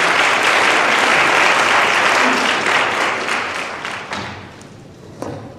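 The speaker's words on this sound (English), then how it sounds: "Let's give our panelists a round of applause" A town hall audience gives the panelists a round of applause. The clapping is loud, dense and sustained, then gradually thins and fades, with a single thump near the end.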